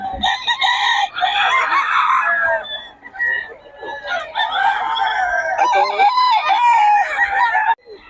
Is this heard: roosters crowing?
yes